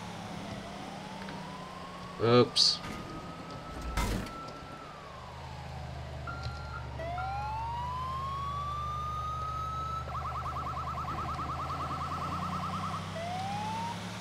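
An ambulance siren in the police game GTA IV LCPDFR wails in long rising and falling sweeps, with a couple of sharp bangs early on and a steady engine drone beneath.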